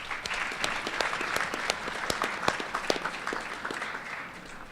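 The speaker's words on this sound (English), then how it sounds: "Give yourself a round of applause." An audience at a senior athletic signing ceremony breaks into steady applause, many hands clapping densely and evenly at close range throughout before easing slightly at the end.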